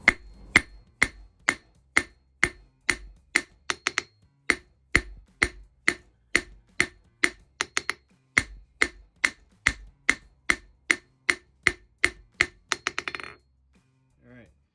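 Hammer striking a copper bar on an anvil, a long run of sharp ringing blows at a steady, even pace, close and loud, ending in a quick flurry of lighter taps before stopping.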